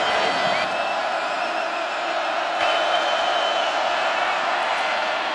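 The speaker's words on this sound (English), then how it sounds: "it is a partisan crowd" Partisan stadium crowd at the 2015 Division II college football championship, Northwest Missouri State against Shepherd, a steady loud roar of cheering and shouting voices filling the whole stretch without letup.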